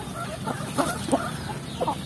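Free-range Indonesian village chickens, laying hens and roosters kept loose in a traditional system, cluck a few short times at moderate distance over a steady outdoor background.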